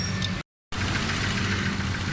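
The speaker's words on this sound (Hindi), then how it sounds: "गाड़ी स्टार्ट है माशाल्लाह, साउंड ज़बरदस्त है गाड़ी का, परफेक्ट साउंड है माशाल्लाह।" A 2005 Suzuki Baleno petrol car with a tappet and fuel fault runs at idle, a steady close engine drone that cuts out briefly and then resumes evenly.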